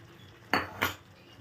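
A utensil scrapes and clinks twice against a pan while paneer curry with sour yogurt is stirred, two short close metallic strokes over a quiet background.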